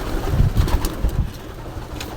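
Pigeons coo in a farm of small nesting boxes where the birds sit on eggs, several low throaty coos overlapping up close, with faint chirps and no talk.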